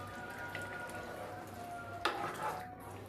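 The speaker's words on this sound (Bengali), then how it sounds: "ভালো মতো নাড়াচাড়া করে মিশিয়ে দিবেন" Beef biryani meat is stirred in a cooking pot, giving a quiet sizzle with soft scraping, one sharper clatter against the pot partway through, and no speech.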